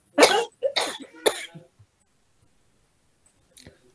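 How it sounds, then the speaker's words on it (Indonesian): Three sharp coughs in quick succession from a single person close to the microphone, followed by a short silence and then a faint brief throat sound. "Aku batuk."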